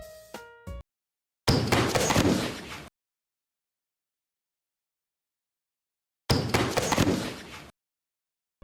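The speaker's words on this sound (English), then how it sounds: "I used this falling sound for the drum roll / fill." A sampled falling sound effect used as a drum roll fill in a beat, heard as two separate bursts of noisy rumbling roughly a second and a half long, each cut off sharply into silence after a brief tonal blip.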